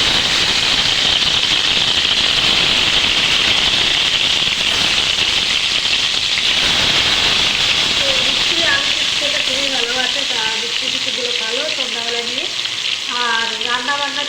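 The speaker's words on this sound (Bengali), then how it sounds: "প্রথমে আলুগুলো ভেজে দিচ্ছি।" Potatoes sizzle and spit steadily in a hot frying pan, a loud, dense frying hiss that runs throughout, with a voice talking over it in the later part.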